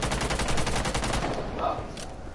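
Rapid automatic gunfire from a video game weapon: a dense, loud burst of evenly spaced shots that slows and breaks off, followed by a few scattered shots, with no talk.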